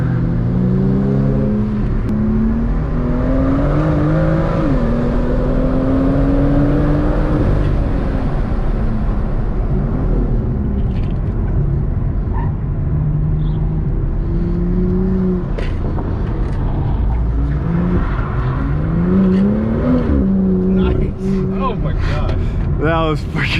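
A supercar engine drones, revs and eases off as the car laps a go-kart track, rising and falling in pitch through the corners while people talk over it.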